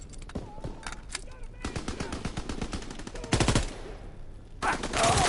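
Rapid machine-gun and rifle fire in the Call of Duty WWII video game rattles in dense bursts, with a louder volley midway and another toward the end, over steady game background noise.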